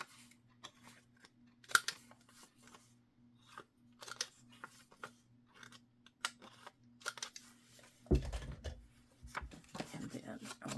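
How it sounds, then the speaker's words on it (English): Scissors snip and trim fabric in a sewing project, a scattering of short, soft cuts in a quiet room, with a voice talking over them. "I need to trim off some of that white down here. I want this trimmed."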